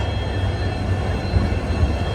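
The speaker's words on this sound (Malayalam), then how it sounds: "ട്രെയിൻ ഇതാ അഗർത്തല റെയിൽവേ സ്റ്റേഷനിലേക്ക് എത്തിക്കൊണ്ടിരിക്കുകയാണ്" Silchar to Agartala Express rolling into Agartala station in Tripura, a steady low rumble of wheels and carriages filling the whole stretch at fairly close range, with no voices.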